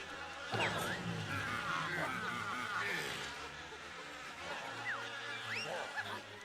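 Insect-like buzzing drones throughout, with several rising chirpy game sound effects over a low hum; bees in the video game Yooka-Laylee.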